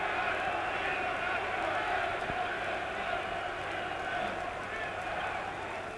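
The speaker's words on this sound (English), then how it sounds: "getting a tremendous reception from this huge German crowd" A huge German crowd at a 1966 heavyweight title fight between Muhammad Ali and Karl Mildenberger roars and cheers in a steady, dense wall of sound that holds for the whole stretch, easing slightly near the end.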